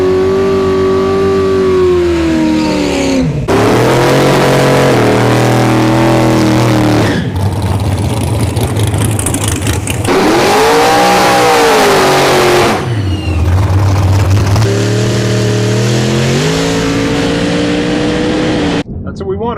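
A drag race between a gutted Tesla Plaid and a big-tire nitrous Chevy Nova, with a loud, close engine repeatedly revving up and dropping in pitch as gears change, interrupted by abrupt cuts, and voices talking over it.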